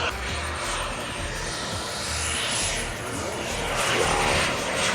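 Large RC model F4 Phantom jet flying at the Joe Nall 2025 RC event, a steady loud turbine whine with a thin high tone, swelling as it passes, with faint crowd voices beneath.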